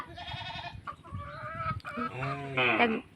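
Chickens cluck and squawk close by in a busy run of calls, with higher bird-like cries near the end and a low rumbling background.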